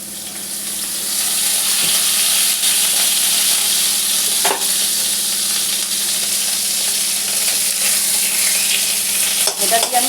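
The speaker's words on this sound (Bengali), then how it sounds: "প্রথমে রসুনটা আমি এতে দিয়ে দিলাম।" Garlic fries in goat fat with a drop of oil in a pan, a steady, loud, close sizzle running throughout with a few faint stirring knocks and no talk.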